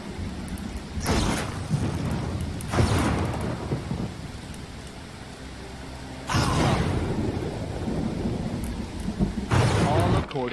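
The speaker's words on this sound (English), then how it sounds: "That lightning is nerve-wracking." Loud thunder cracks from lightning strikes in a stormy video game scene, with two sharp booming claps rolling over steady rain, the second around the middle and another near the end.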